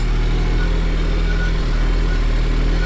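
A New Holland TT4.65 tractor's diesel engine runs steadily close by, a loud, even low rumble with a constant droning hum and no pauses.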